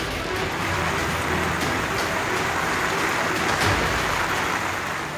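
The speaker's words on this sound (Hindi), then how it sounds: "लगातार हो रही भारी बारिश" Heavy monsoon rain falls in Mumbai with a dense, constant hiss and patter on surfaces, steady and fairly loud throughout, with no voices.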